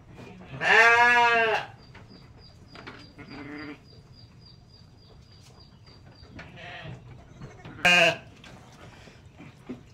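Sheep bleat loudly at close range in two separate calls with a quiet gap between them, and fainter animal sounds come in between, on a small farm where goats and sheep are kept for lambing.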